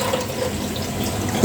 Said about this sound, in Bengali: এবার পরিষ্কার করে ধুয়ে নিচ্ছি।